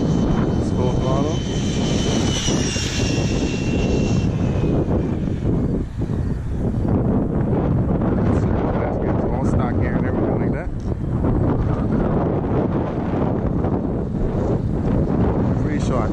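A Kyosho Inferno GT2 VE Race Spec RC car with a Mercedes-AMG GT3 body, on two 2S lipos, accelerates with a loud, sustained high-pitched electric whine and strong wind rush, held continuously throughout, with voices partly mixed in.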